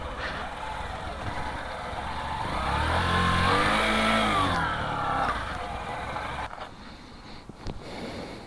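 A 2022 Hero Passion Pro Xtec commuter motorcycle ridden slowly over rough off-road ground, its engine humming steadily and swelling briefly in the middle, with wind and road rumble mixed in.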